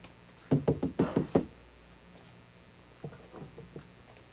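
Knocking on a door: a burst of six quick, solid raps, a pause, then a softer second run of about five knocks.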